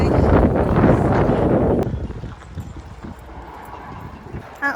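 Gusty wind buffeting a microphone on a walk past geese and swans, a loud roaring rumble for about two seconds that then drops to a softer, fluttering breeze.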